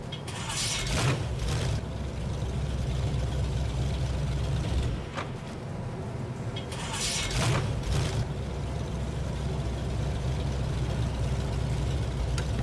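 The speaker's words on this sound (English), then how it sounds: "The engine is a Chevy 350 and it sounds really, really good." A modded pickup truck with a Chevy 350 V8 in the video game SnowRunner rumbles at a steady, low idle throughout, with a few brief bright bursts and surges over the constant hum, moderately loud.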